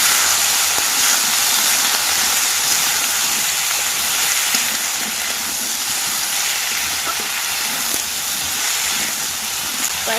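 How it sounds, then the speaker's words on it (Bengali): Cut taro pieces sizzle in hot oil with browned onion and garlic, producing a loud, close, continuous hiss that holds steady from start to finish. "এর মধ্যে কেটে রাখা কচুটা দিয়ে দেব।"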